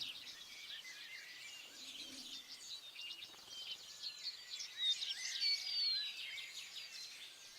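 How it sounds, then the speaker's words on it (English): Forest ambience full of small birds chirping and trilling, several calls overlapping at a moderate distance over a quiet background, no voices. "But I hear birds"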